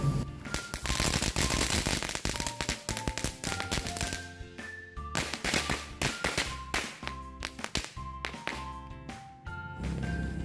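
Match-strike firecrackers go off in rapid, crackling bursts, loud and dense at first, then thinning into irregular sharp pops.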